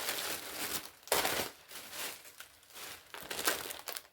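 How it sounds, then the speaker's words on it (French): Paper crinkling and rustling as a package is unwrapped, with bursts of crackly handling noise coming in irregular waves, close and fairly loud, with no talking. "Je déballe ma sélection."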